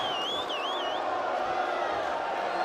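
An arena crowd at a Lucha Libre Underground wrestling event jeers and shouts at a wrestler, a dense continuous roar with piercing whistles cutting through near the start.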